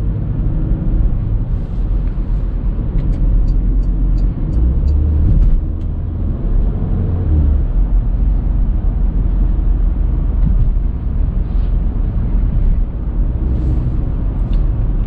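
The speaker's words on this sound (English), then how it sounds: "I'll be quiet for a moment so you can hear the engine." A steady, low engine drone with road rumble from a 2019 Porsche Macan driving at night continues throughout, with no talking.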